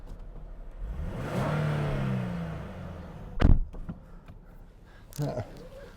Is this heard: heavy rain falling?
no